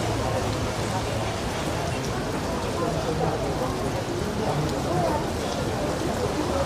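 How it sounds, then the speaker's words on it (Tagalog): Heavy rain falls on a street at night, a dense, steady hiss of drops filling the whole stretch at an even level with no pauses. "so yung ulan is lumakas siya"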